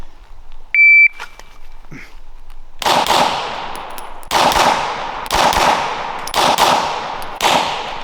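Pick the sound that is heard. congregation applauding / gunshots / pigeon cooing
gunshots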